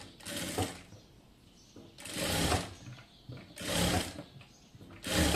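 A sewing machine stitches a unique neck design on a garment, running in four loud bursts of rapid mechanical whirring separated by short quiet pauses, close by with no talk.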